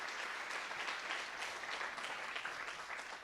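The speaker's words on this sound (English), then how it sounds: "Shirley, how about a round of applause for that?" Steady, dense applause from a large audience at a teachers hall of fame induction ceremony, even and sustained throughout with no talking over it.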